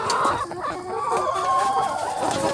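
Laying hens clucking nearby, a dense, continuous chorus of overlapping drawn-out clucks and murmurs, fairly loud and steady throughout with no talking.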